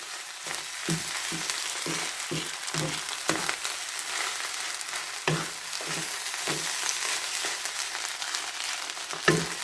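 Egg fried rice stir-frying in a pan, a steady sizzle with repeated scraping stir strokes of the spatula at an irregular rhythm, close and fairly loud throughout.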